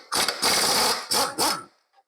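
An impact wrench hammers at the seized engine of an abandoned John Deere 90 skid steer, loud rattling bursts in three short runs before cutting off.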